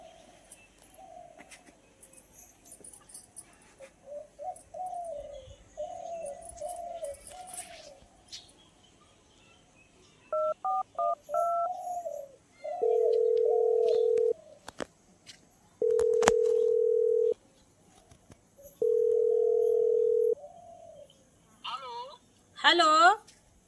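A phone number is keyed in as a quick run of short tones, followed by several long, evenly spaced steady tones from a telephone handset, heard in a rural Awadhi comedy setting after talk and birdsong in the background.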